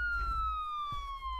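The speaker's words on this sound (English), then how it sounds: "I like the sirens." A police car siren in the video game Field Trip Z wails on a steady, slowly falling tone over a low engine rumble, heard continuously from inside the vehicle.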